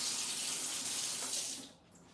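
Tap water runs steadily into a sink as a cookie is rinsed off, a broad close hiss that drops away sharply near the end when the flow is shut off.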